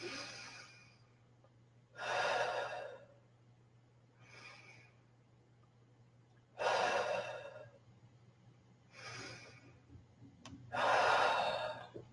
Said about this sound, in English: this is just a simple breathing exercise that gets you aware and present when it comes to utilizing your diaphragm